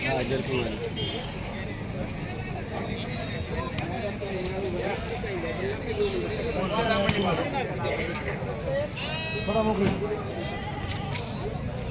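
Several Kathiawadi goats bleat repeatedly over a busy, noisy goat market crowd in Chakan, people talking throughout, the calls rising out of the steady murmur.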